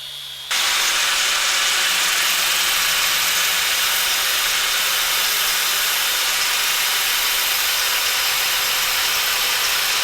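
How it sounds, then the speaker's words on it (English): A metal shifter handle being cut down for a homemade short-throw shifter, a loud, steady grinding hiss that starts abruptly after a brief moment and runs continuously without pause. "I'm going to cut down the shifter handle right here"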